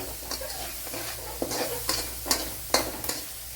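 Ginger and garlic fry in prawn-frying oil in a pan for prawn biryani, a steady close sizzle broken by several sharp scraping stirs of a spoon.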